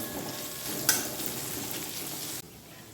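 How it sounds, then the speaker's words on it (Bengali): Onion frying in a pan for a Bengali pumpkin mash, a close steady sizzle with a sharp stir or clink near the start, then cutting off abruptly before the end. "পেঁয়াজটা হয়ে গেছে ভাজা ভাজি"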